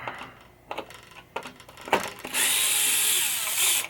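A power drill backs screws out of a pop bumper on a 1967 Williams Blast Off pinball machine, with a few short clicks and scrapes first, then a steady high whir running close and loud to the end.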